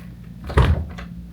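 A wardrobe door in a New York hotel room swings open with a single short, close knock and creak, loudest midway through and then settling into quiet room tone.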